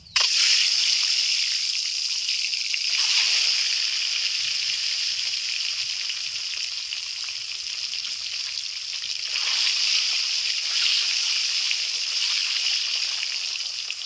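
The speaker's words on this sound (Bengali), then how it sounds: "তেল গরম হয়ে গেছে, ডিমগুলোকে ভেজে নিচ্ছি।" Eggs frying in hot oil over medium heat, a steady bright crackling sizzle that runs continuously and close up, swelling slightly at a few moments, with no voices over it.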